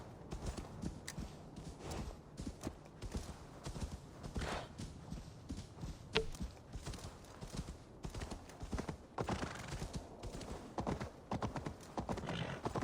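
A horse in the video game Assassin's Creed Valhalla clip-clops along in a steady, quick hoof rhythm that runs throughout at moderate loudness, with no talking over it.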